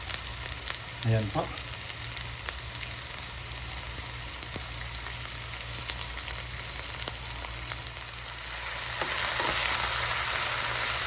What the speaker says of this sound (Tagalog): ginigisa ko na po ang ating bawang, sibuyas, at ang ating luya